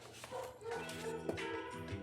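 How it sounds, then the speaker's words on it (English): Excited dogs in a home kitchen let out quick yips and short whimpering barks, fairly faint and clustered in a brief burst. "Excuse the dogs, are all excited."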